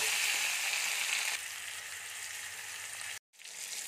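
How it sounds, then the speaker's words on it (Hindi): Pointed gourd (parval) frying in a pan with salt and turmeric over medium to high flame, a steady close hiss and sizzle that briefly cuts out near the end before resuming. "परवल को भी फ्राई करने के लिए थोड़ा सा नमक डालेंगे और थोड़ा सा हल्दी पाउडर डालेंगे और मीडियम टू हाई फ्लेम पर अच्छी तरह फ्राई करेंगे।"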